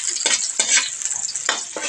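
Bangus milkfish fries in a pan, a loud close sizzle that flares in bursts as it is stirred and turned, with no voices.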